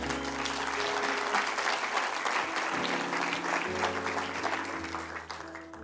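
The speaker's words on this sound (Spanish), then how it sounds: "¿Cuántos pueden dar un aplauso al Señor?" A church congregation breaks into sustained applause, a dense, steady clatter of many hands clapping together that carries on for several seconds before easing slightly at the end.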